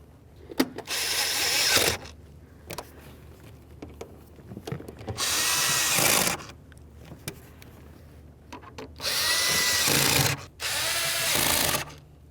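A power driver whirs in several bursts of a second or two each, driving Phillips head screws into a Subaru Impreza's fuel pump cover, with short pauses and faint handling clatter between runs.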